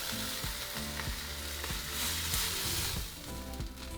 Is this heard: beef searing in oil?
yes